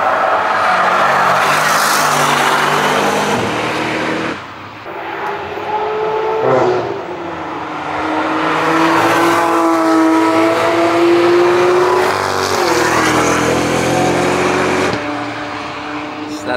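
A Corvette ZR1 or Zora prototype at the Nürburgring, loud engine roaring and rising with boost whine as it passes close, a sustained drone with gear shifts and a brief dip midway.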